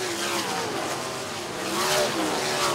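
ASCS sprint cars racing on the Salina Speedway dirt track: a loud, steady roar of high-revving engines passing close, rising and falling slightly as the cars circle.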